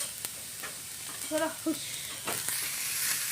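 Food for egg rolls fries in a pan with a constant soft sizzle and hiss, broken by a few brief stirring scrapes near the middle.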